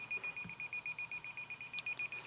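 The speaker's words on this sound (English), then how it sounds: "It's going to go into an alarm once you pull it off" An Industrial Scientific M40 gas detector in alarm gives a rapid, steady run of shrill, faint beeps in an even pulsing rhythm, with no voices.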